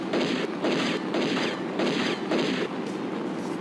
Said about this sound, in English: I think I managed to take this guy out purely with my pistol